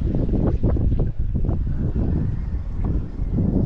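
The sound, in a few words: strong wind at sea, Alibijaban island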